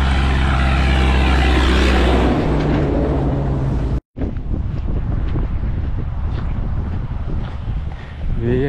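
Strong wind buffets the microphone outdoors on a rural walk, a loud roaring rush that drops out for an instant and then keeps gusting steadily.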